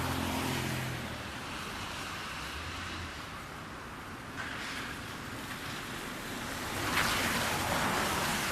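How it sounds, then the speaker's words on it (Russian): Cars driving back and forth along a street in Rome during the Christmas holidays: a steady wash of passing traffic and rushing wind-like noise, swelling as vehicles go by, with no talk. "Машины шныряют туда-сюда, вообще ничего не боятся."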